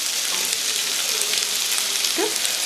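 Eggplant and potatoes fry in a pan with a close, steady sizzle and crackle, punctuated by a brief scrape of stirring near the end; no voices.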